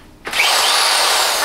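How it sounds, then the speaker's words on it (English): A Craftsman drill fitted with a drywall compound mixing attachment spins up after a brief pause and runs with a loud, steady, high whine to the end. "I have a Craftsman drill, and on it is a mixing attachment that is made for mixing drywall compound"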